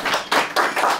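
Bursts of clapping from a comedy club audience at a stand-up show, rising and falling in three or four quick waves, fairly loud and close with no talking.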